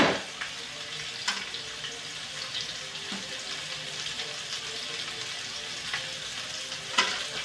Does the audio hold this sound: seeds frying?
yes